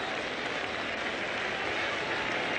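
A cricket crowd at a 1990 West Indies versus England Test match cheers a boundary, a broad, steady roar of voices and applause sustained throughout without a break.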